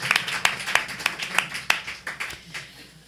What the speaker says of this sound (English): Now you can applause.